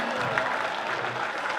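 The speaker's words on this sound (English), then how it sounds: "One more round of applause," Audience applause fills a basketball championship closing ceremony at Fly Palmy Arena, a steady dense wash of clapping throughout with no break.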